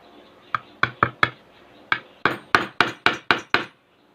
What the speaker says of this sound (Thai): ใช้ค้อนเล็ก ๆ แบบนี้ตอกลงไปเลย